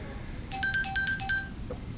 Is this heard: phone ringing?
yes